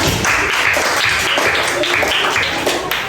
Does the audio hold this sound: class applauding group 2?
yes